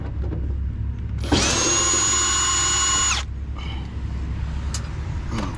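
A power drill drives in a missed screw in one steady high whine lasting about two seconds, starting and stopping sharply, with quiet room noise and a few faint clicks before and after.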